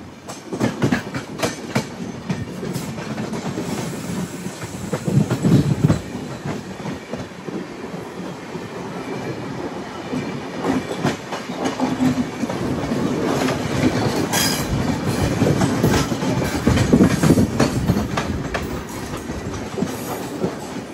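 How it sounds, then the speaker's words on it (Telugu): The Visakhapatnam–Lingampalli Janmabhoomi Express passes close by near Narsipatnam Road station, a long steady roar of wagons with rhythmic clickety-clack from the wheels and brief squeals, heard alone with no talk. "విశాఖపట్నం లింగంపల్లి జన్మభూమి ఎక్స్ప్రెస్."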